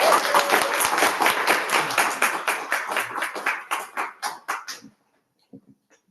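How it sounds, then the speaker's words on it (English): Audience applause at a poetry reading event, a dense burst of clapping from a sizable crowd that thins out into scattered individual claps and stops, followed by silence and a couple of faint sounds. "So give it over for Ian Higgins"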